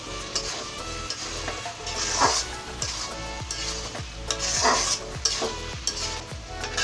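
Beef tripe curry sizzles steadily in a wok as water goes in, a continuous frying hiss with scraping stirs, over a background of tonal music.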